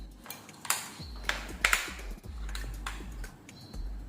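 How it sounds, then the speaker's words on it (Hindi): Keys clack on a Logitech MK235 wireless keyboard in a handful of separate soft taps and clicks, sparse and irregular, close by with a low hum underneath. "कीज़ जो है काफ़ी सॉफ्ट है और इजीली इसको मैं खुद भी टाइप कर सकता हूँ"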